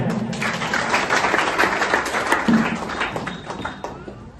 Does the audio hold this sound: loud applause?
yes